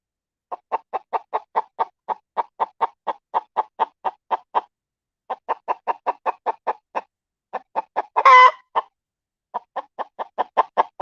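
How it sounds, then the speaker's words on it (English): A chicken clucks close below the microphone in quick rhythmic runs of sharp clucks broken by short pauses, with one louder squawk near the end. "the chicken was right underneath the camera"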